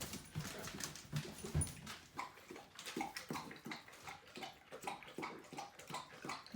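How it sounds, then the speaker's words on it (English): A Great Dane laps water from a bowl in a run, quiet wet slurping in an irregular, rapid rhythm that carries on for several seconds with no one talking. "Nothing like a good drink of water."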